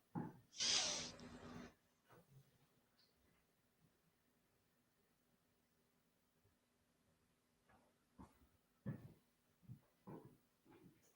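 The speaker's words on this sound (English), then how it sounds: "Shadow meows really loudly and she's going to wake Mrs. Angry up" A cat lets out one loud, drawn-out meow near the start, then the room goes mostly quiet, with a few faint knocks and small movements toward the end.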